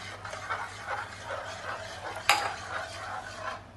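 Semolina being stirred into boiling water in a pot, for Telangana-style uppudu pindi: steady scraping and swishing, with one sharp metallic clink partway through.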